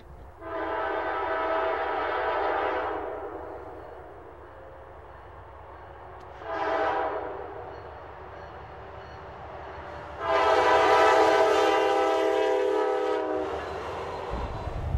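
A train horn blares in long loud blasts as the train rumbles past a railroad crossing, with steady rolling noise between the horn calls.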